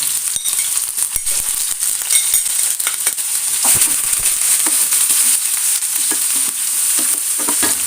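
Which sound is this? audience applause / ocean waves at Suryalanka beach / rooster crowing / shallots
shallots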